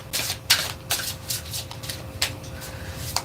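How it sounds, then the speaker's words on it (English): A deck of reading cards is shuffled by hand in a run of crisp, riffling bursts with uneven rhythm. The cards sound close, with soft rubbing between the louder flicks. "I'm just trying to learn this shuffle too."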